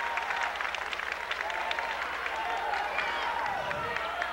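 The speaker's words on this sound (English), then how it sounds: "Laramie crowd getting into it." A high school basketball crowd in Fort Loramie claps and cheers, a dense, steady wash of applause and crowd noise filling the gym throughout, with a commentator talking over it.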